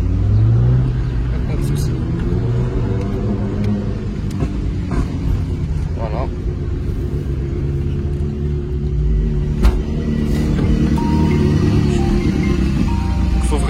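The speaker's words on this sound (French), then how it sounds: "Le craquement au passage de rapport est énorme." A Mercedes A45 AMG Edition 1 engine and exhaust pull hard under acceleration, a loud, close rumble with rising revs, while people talk over it.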